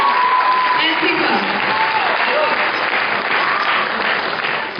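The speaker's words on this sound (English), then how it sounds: "Give a big round of applause for Babu and CIFA." Steady, dense applause from a large audience fills the whole stretch at a constant level, slightly fading at the very end.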